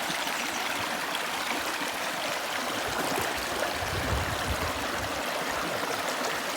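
A Wisconsin creek flows steadily past a gold prospecting spot, its water rushing and trickling in a continuous, close hiss with no voices.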